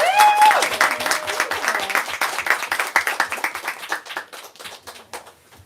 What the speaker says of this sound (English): let's give these two one last round of applause